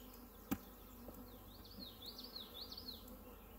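Honey bees buzzing around an open hive being worked with smoke, a faint steady drone with a few wavering passes of individual bees flying close, plus a sharp click early on.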